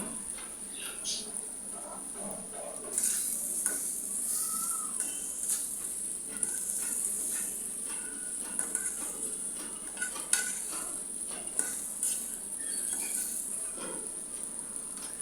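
Fish head curry with tomato and green chili is stirred in a pan, giving repeated scraping clinks of a utensil over a steady frying hiss and a high whine, with a voice heard faintly.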